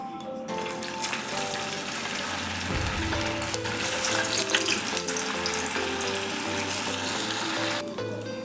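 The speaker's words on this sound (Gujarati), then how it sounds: "આપણું તેલ પણ ગરમ થઈ ગયું છે અને હવે આપણે આ બધા વડા એક પછી એક તળી લઈશું" Oil sizzles and crackles steadily for several seconds as sabudana vada, tapioca pearl fritters, deep-fry, a dense continuous frying hiss with faint tonal sounds in the background.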